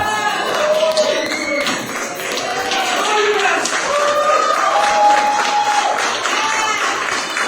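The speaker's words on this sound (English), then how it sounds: "The crowd here applauding the efforts of both men." An audience at a New Age Wrestling match applauds steadily, dense clapping mixed with crowd murmur and scattered shouts, loud and continuous throughout, with voices speaking over it.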